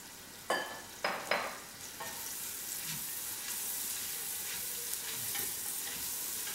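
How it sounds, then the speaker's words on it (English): Onions frying in a pan with a little salt and white pepper, a few sharp stirring clatters at the start giving way to a steady, close, moderately quiet sizzle with no speech. "I'm just going to fry the onions"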